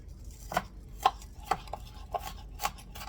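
An onion being chopped finely with a knife on a cutting board, about six crisp, evenly spaced knocks at close range in a quiet kitchen, with no talking.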